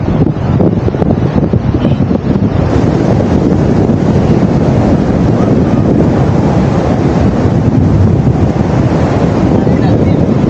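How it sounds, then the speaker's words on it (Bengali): Sea waves roll onto Kuakata beach, a loud continuous wash of surf mixed with heavy wind buffeting on the microphone, steady with no breaks. "ঢেউগুলো আস্তে আস্তে অনেক বাড়তেছে"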